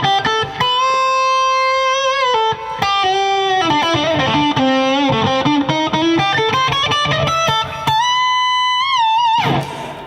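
Guitar played through a reverb effect blended with the dry direct signal, sustained melodic notes and chords ringing with a wash of ambience, loud and alone for about ten seconds with brief gaps.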